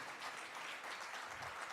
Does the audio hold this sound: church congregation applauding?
yes